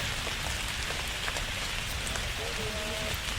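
Steady rain at the 2200-metre summit of Bukit Gedong in Sembalun, misty with a few tents pitched, pours as a loud, continuous hiss of drops on surfaces, unbroken throughout, with faint tones near the end.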